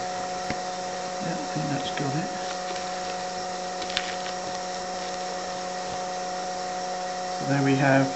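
A vacuum pump drones steadily as it pulls a vacuum bag down over a resin layup. The hum stays even and moderately quiet throughout, with brief faint voice-like sounds partway through and near the end.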